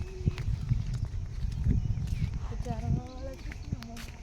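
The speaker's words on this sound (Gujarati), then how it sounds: "દેખ કેટલા બધા ઘેટા બકરા આવી ગયા" A herd of sheep and goats moves past in a village near Jetalpur: a patter of scattered hoof steps with a few short bleats, while people talk nearby.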